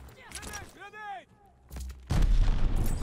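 A grenade detonates in Call of Duty Vanguard, a loud broadband blast that hits near the end and rumbles on, following a stretch of voices talking.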